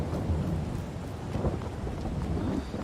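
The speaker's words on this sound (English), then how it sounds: "Very windy today. Rain, looks like a miserable day out." Rain and thunder weather in Farming Simulator 22 on a windy day, a steady broadband rush of rainfall with low rumbling swells, continuous and fairly loud with no talk.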